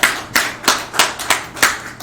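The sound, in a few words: congregation applause in church service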